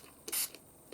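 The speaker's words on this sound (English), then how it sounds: "now what happens if I spray some water?" Two quick hissing bursts from a spray bottle, close and crisp, separated by a short pause with a fainter spritz between.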